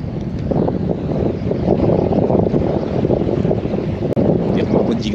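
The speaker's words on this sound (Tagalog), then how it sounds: "Lakas ng hangin." Strong beach wind buffets the microphone in a constant loud roar, with the wash of water and surf mixed underneath.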